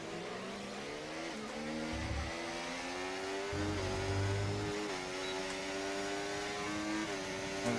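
Ferrari Formula 1 cars racing side by side in the F1 24 video game, with high, layered engine whines shifting pitch through gear changes and a steady, loud drone throughout.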